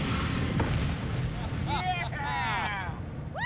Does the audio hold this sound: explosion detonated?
yes